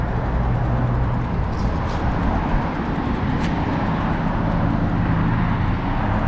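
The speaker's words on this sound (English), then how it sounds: "Watch these cars on the right here" Cars driving past on a road in East Lake, near Keystone Road, making a steady broadband traffic roar that holds at an even level throughout with no talking.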